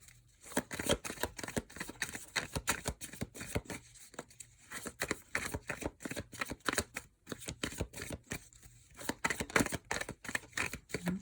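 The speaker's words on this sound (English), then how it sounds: "So let's shuffle the cards." Rapid, crisp riffling of a tarot card deck being shuffled, repeated bursts of fluttering snaps close up, with brief pauses between shuffles.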